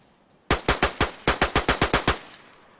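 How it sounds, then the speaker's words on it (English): Rapid bursts of video game gunfire in DayZ as spare ammo is emptied, about eleven loud, sharp shots in two quick rhythmic strings, with a brief pause between them and a faint tail afterward. "At least I had to shoot the ammo off."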